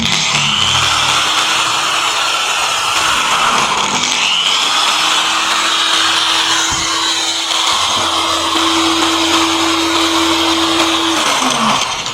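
A DongCheng DSM21-100E electric angle grinder running at speed, giving a loud, close, continuous motor whine whose pitch steps up and holds level partway through before dropping slightly at the end, with no talking.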